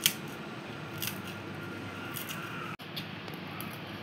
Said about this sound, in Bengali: এখন আমি কাটে নেব রসুনগুলা।